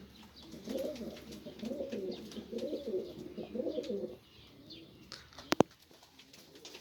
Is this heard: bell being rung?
no